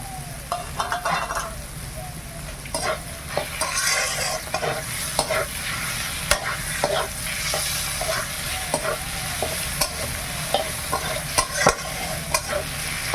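Snake gourd frying with spice paste in a wok, loud continuous sizzling with frequent rhythmic scraping and clatter of a spatula stirring, close up and without speech.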